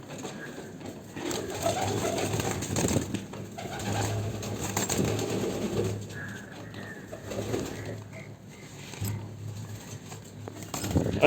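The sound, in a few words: pigeons cooing in a cage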